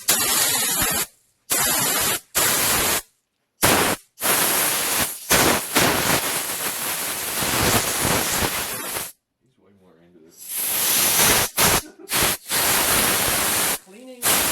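A compressed air blowgun in a garage shop blasts repeated loud hissing bursts of varying length, cut by short silences, with a voice speaking during a quieter gap.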